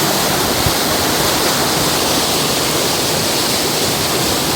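A waterfall roars loudly and close by in a constant, unbroken hiss of crashing water, with no speech.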